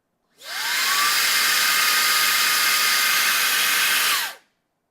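A GRABO High Flow vacuum paver lifter switches on with a steady, loud whooshing motor roar that spins up quickly, holds constant for about four seconds, then cuts off and winds down.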